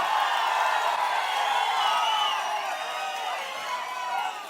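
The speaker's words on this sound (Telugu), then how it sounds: "మీరు కూడా గట్టిగా చప్పట్లు కొట్టి ఇలాంటి వాళ్ళకి స్వాగతం పలకాలి" Crowd at a political rally clapping and cheering in welcome, a steady dense wash of applause and shouts filling the whole stretch.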